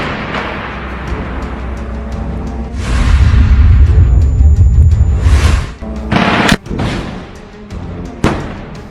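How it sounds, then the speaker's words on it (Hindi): A rocket fired from a launcher at a building in a Gaza combat zone, a heavy roaring blast lasting a few seconds, followed by several sharp loud bangs and booms. "इसके बाद ये लड़ाका मलबे में छिपकर इस रॉकेट को सामने की एक बिल्डिंग पर फायर कर देता है।"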